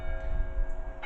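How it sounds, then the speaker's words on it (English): The bell of St Leonard's church in Clent rings, a sustained metallic tone with steady humming overtones heard over faint background rumble, with a brief brighter strike near the end. "And there goes the bell"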